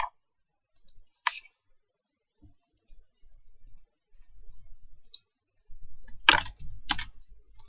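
Python code being typed on a computer keyboard, with sparse isolated key clicks at first, then denser bursts of close, crisp tapping toward the end, and no voices.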